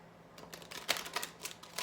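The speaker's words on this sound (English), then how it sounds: "one last shuffle" Oracle cards are shuffled by hand in a quick run of crisp, close riffling and flicking clicks over a faint hum, with no voices.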